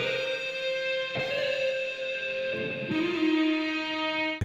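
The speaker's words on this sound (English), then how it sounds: "From there, I added my own guitar. So I used Amplitude 5." An electric guitar played through the Amplitude 5 amp plugin in a trancy lo-fi beat rings out in a few sustained, slightly driven notes, moderately quiet, with bright harmonic overtones and a clean attack on each change.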